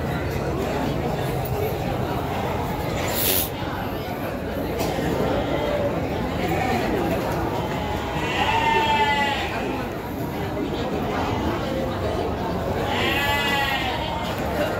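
Sheep bleat at a livestock market at Tanjungsari, Sumedang, in two or three separate calls, moderately near, over a steady murmur of crowd chatter and someone talking.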